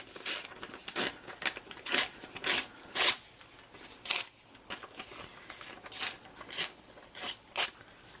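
Music sheet paper is torn by hand for an art journal page, a series of short, close, crisp rips and rasps in uneven bursts with brief pauses between them.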